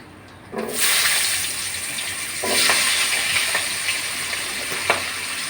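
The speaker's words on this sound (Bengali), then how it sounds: "আলুগুলো লাল লাল করে আমি ভেজে নেব" Cut potatoes hit hot oil in a pan with whole cardamom, cinnamon, bay leaves and cloves, bursting into a loud, steady sizzle that swells again when they are stirred, with a few clinks from the utensil.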